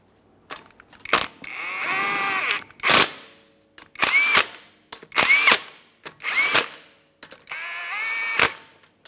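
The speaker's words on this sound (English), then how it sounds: "we're going to tighten all five of our 19mm lug nuts" Power tool bursts tightening the five 19mm lug nuts on a 2015-2019 Subaru Outback front wheel, six loud close whirring runs with rising pitch, separated by brief pauses and sharp clicks.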